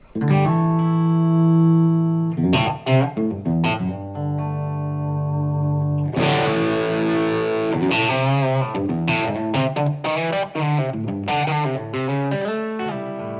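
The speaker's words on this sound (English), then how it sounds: "as I roll up this volume, you'll hear that it goes from clean, and then it'll come up to this dirty sound" An Epiphone electric guitar with a P90 pickup plays sustained chords and riffs that start clean, then turn gritty and distorted as the volume knob is rolled up, through an amp with loud, ringing sustain and no talk.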